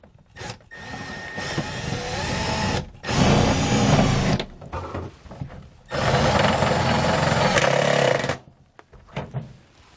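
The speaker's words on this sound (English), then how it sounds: "We're just going to hold it up and then start our screws right into the roof." Power driver sending screws into the roof of a 2018 Jayco Greyhawk motorhome while mounting a MaxxFan Deluxe roof vent; loud, close bursts of whirring motor, several runs of a few seconds each separated by short pauses, no talking.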